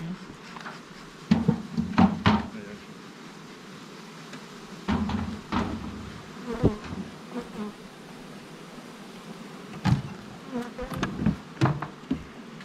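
Honeybees buzz around a hive, the drone swelling in bursts as insects pass close and then fading, with a few light knocks in between.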